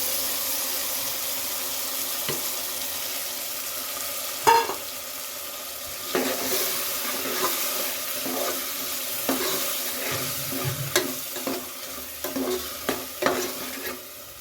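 Ground masala goes into cooked toor dal kurma and is stirred in a pot, with soft scraping strokes and wet stirring scrapes that start faintly and grow busier and more frequent toward the end, with no talking.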